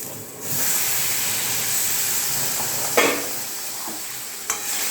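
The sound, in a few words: water poured into hot pan with fried jackfruit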